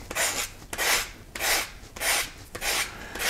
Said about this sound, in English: I'm just going to lightly sand over